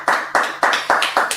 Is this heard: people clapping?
yes